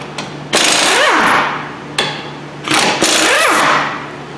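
An impact wrench working on front brake bolts of a Chevy Equinox fires in two loud, close hammering bursts, each winding up and then winding down, with a short pause between them.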